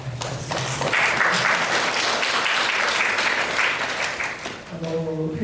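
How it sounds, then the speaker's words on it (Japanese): An audience applauds a visiting French photograph conservation lecturer at a lecture hall event, a steady wash of clapping that swells and holds before fading as a voice begins speaking. "改めて、拍手をお願いいたします"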